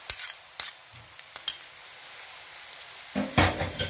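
Fresh ginger and crushed garlic fry in a pan, a soft sizzle broken by a few clinks of a utensil stirring, with a louder stir near the end.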